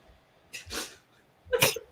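A person sneezes twice close by, a short soft one followed by a sharper one a second later, with quiet room background between.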